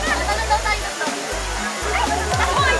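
The steady broadband rush of Daranak Falls fills the scene, with voices talking loudly over the constant roar of falling water.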